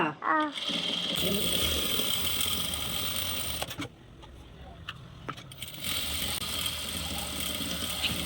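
A sewing machine stitches through a doormat, its mechanical whirring running steadily near and loud for most of the stretch, with short pauses and clicks partway through.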